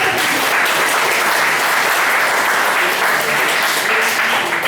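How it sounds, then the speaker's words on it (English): A roomful of students claps steadily and densely during a motivational session, a continuous wash of applause with no pauses and no talking over it. "At least clap properly now for someone."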